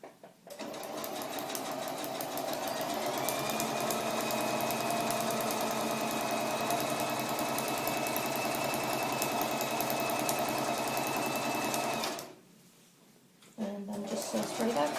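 Sewing machine stitching underquilt fabric, a steady continuous motor whir with rapid needle chatter running for about twelve seconds before stopping briefly and starting again, with faint speech alongside.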